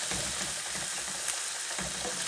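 Tomatoes fry in a pan with a continuous crackling sizzle and faint stirring scrapes, held at an even, fairly close level throughout.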